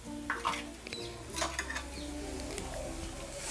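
Mashed potato is stirred into a frying mixture in a pan for potato-stuffed bread rolls, with close spoon scrapes and clinks against the pan over a low continuous sizzle, no talk.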